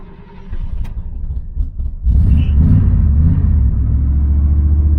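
A cold Chevrolet Malibu engine warming up at idle, quiet and uneven at first, then settling into a loud, deep, steady rumble for the remaining seconds.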